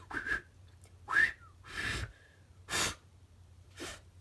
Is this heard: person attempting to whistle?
yes